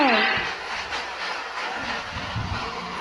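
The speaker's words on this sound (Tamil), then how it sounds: "ட்ரெயின் பொறுமையாக போயிட்டுருக்கு." A steady train rumble with a rhythmic clatter, heard through GTA 5 game audio, with a voice talking over it.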